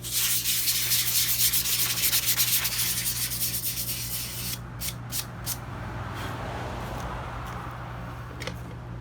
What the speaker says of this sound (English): I'm gonna go ahead and start sanding the fender